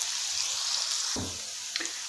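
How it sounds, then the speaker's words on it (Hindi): Onions softening in a pan for an aloo palak sabzi give off a steady, gentle sizzle, with a couple of brief clinks from stirring. "प्याज को अब हमने 3 से 4 मिनट कुक करना है।"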